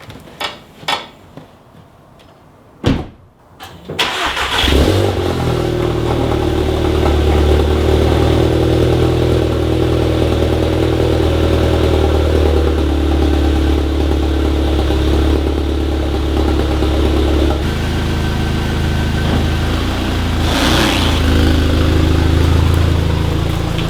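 A few clicks and a brief crank, then a Mk7 Volkswagen GTI engine with a catted downpipe exhaust fires up and settles into a steady, deep idle rumble that carries on with slight variations.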